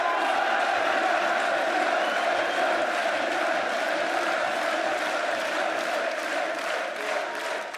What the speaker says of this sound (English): Thank you, everyone, for cheering for us.